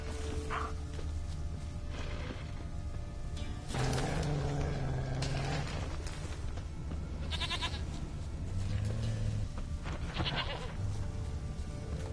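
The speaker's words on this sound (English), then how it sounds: "Here, goat." A goat bleats several times in a quiet outdoor setting. The calls are scattered and moderately close, with soft rustling and footsteps in between.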